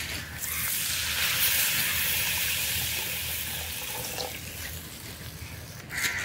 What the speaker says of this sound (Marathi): आता आपण इथे टाकू पाणी